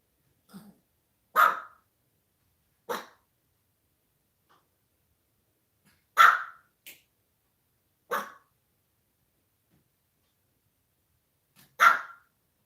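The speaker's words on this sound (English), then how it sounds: "my dog is going ham" A pet dog barks indoors in about six sharp, loud single barks spaced a few seconds apart, with near silence between them and no talking.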